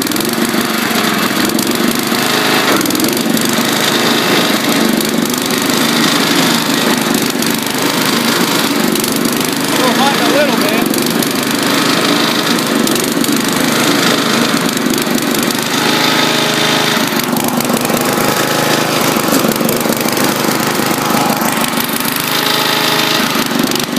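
Wheel Horse 211-5 garden tractor engine running with carburetor issues, a loud close steady small-engine drone that hunts slightly in pitch throughout, with no talk.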